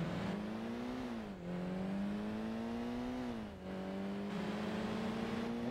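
A race car engine in Forza Motorsport pulls hard from the starting grid as a steady, loud drone, rising in pitch, dipping briefly at two gear changes, then climbing again, with no talking.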